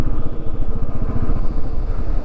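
A motorcycle on a hill-country ride runs with a loud, close, pulsing engine throb and steady rhythmic firing beneath wind noise.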